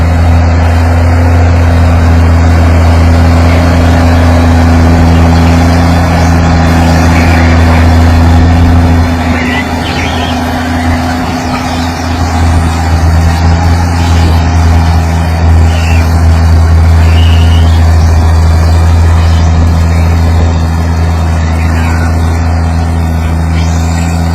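A loud, heavy Oliver 770 tractor engine drones steadily with a deep, constant hum, straining under load throughout a tractor pull, with a faint voice in the background.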